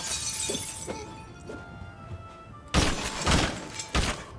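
Merchandise shattering in Mafia III as goods are smashed: a sudden loud burst of breaking glass and crashing items with a few heavy thuds, following quieter knocks.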